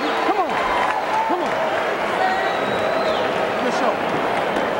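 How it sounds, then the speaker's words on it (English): A boxing arena crowd roars and applauds toward the end of a heavyweight round, a steady loud wash of cheering and clapping with a commentator talking over it. "But the crowd getting behind Holyfield at the end."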